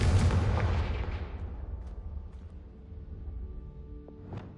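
A Confringo spell explodes in the Hogwarts Legacy game with a loud, close blast that rumbles and fades out over several seconds, followed by a faint later pop, with no speech.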